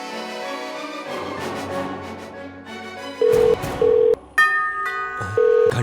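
A phone call being placed, with a burst of steady dial and ringback tones over background music, the tones coming in three or four short bursts near the end.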